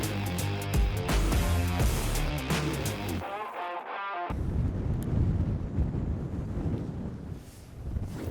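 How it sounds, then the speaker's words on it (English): Gusty wind buffets the microphone on a blustery, mild evening of fishing by the water, a rough continuous rumble and rush that swells and dips over several seconds, near and loud, with no voices. "Bit of a blustery evening, but hey, it's mild enough"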